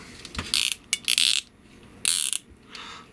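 A KO MP44 Optimus Prime toy's wrist joint swiveling, giving short rattling ratchet clicks in two or three quick bursts, close and crisp against a quiet background.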